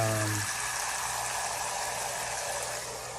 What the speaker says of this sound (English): we'll let that boil up till the water's evaporated out